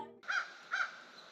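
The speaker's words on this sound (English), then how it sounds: "That crow." A single crow gives two short, harsh caws about half a second apart, clear and fairly close against a quiet background.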